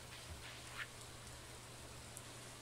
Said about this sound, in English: Oh, yay, it's raining.